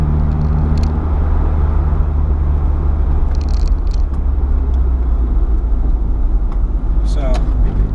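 A boosted Mazda Miata fitted with an electronic boost controller pulls hard under acceleration, its engine a loud, steady low drone that runs continuously from start to finish, with brief faint rattles on top.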